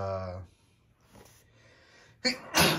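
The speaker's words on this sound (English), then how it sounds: "excuse me, sorry, I had to sneeze." A brief vocal note fades into quiet, then a sudden sharp sneeze bursts out near the end, loud and close, with a quick intake just before it.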